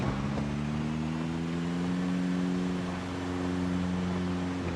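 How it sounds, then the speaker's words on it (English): A loud in-game car engine in a zombie survival game drones steadily while driving, a constant humming rumble with a slight wavering pitch and no breaks. "I also forgot how loud our car is because of the, because of Speed Demon"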